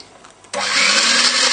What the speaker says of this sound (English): And then we need to whisk that up.